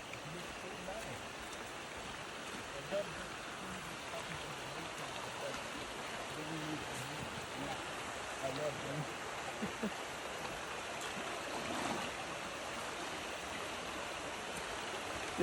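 A flowing river in Jamaica rushes steadily and evenly close by, a dense continuous watery hiss with faint splashes as someone wades in, and voices murmur softly underneath.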